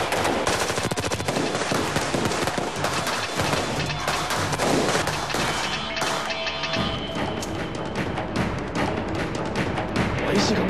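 Dense, loud battle gunfire with rapid machine-gun bursts and overlapping shots, continuous throughout, with shouting voices mixed into the din.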